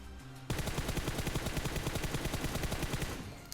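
Rapid automatic gunfire from a player shooting while lying prone in the mobile battle-royale game BGMI, starting abruptly and continuing as a dense, loud burst of evenly spaced shots for about three seconds.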